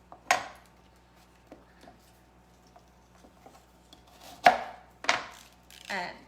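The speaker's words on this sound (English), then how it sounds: "you just cut that little part of that stem that's kind of dry off, and then slice in half" A kitchen knife trims and halves Brussels sprouts on a cutting board, giving several sharp, separate chops with quiet gaps between them.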